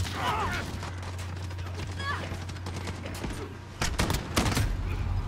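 Shotgun blasts from the 725 in Call of Duty Modern Warfare on the Shipment map, several sharp close cracks clustered near the end over steady game noise, with someone talking.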